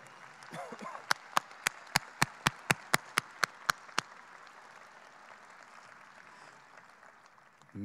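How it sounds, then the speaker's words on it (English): At a high school commencement ceremony, an audience claps for the school board members, a run of a dozen crisp evenly spaced claps close by over faint distant crowd noise. "please stand so that we can applaud you for all of your support"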